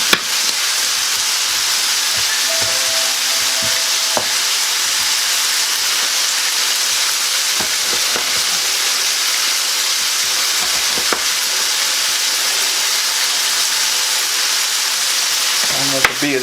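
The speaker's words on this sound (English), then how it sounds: "that's while the beef is cooking here" Cubes of beef for a Guinness stew sizzle steadily in a hot pan, a dense continuous frying hiss heard close and loud, with occasional faint clinks and handling noises.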